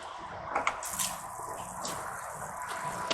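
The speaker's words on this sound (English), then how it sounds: "take this cap off to start draining the tank" Water drains out of the fresh water tank of a 2022 Forest River Salem FSX 179DBKX bunkhouse RV with the cap removed, a soft, quiet trickle and splatter with a few small drips and splashes.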